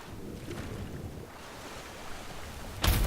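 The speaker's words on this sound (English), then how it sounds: "And a waterfall." A waterfall in the video game Skyrim pours as a steady, broad rush of water that holds through most of the clip, ending in a sharper, louder burst.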